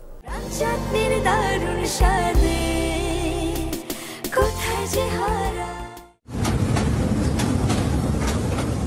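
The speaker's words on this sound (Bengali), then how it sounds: "মেঘনা নদী, রেল সেতুতে ছুটে চলছে ট্রেন" A train crosses the Meghna rail bridge at Ashuganj. It makes a loud, steady rumble with metallic rattling and clanking. The sound cuts briefly near the end, then returns as a denser roar of wheels on the bridge.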